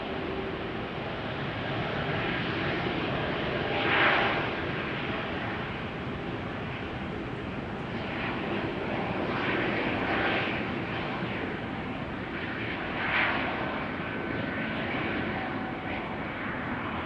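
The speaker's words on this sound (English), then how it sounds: "behind it is an E2 Embraer 195 to Nice" An Embraer E195-E2 jet taking off at Amsterdam Schiphol on a flight to Nice gives a steady, broad engine roar that swells gently in a few places, heard from a distance with no voices.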